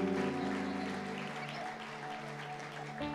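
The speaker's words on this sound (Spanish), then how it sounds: "Aplauda fuerte a Dios, hermano." Church congregation applauding during a Spanish-language worship service, a steady sustained clapping that stays fairly level, with music or voices faintly underneath.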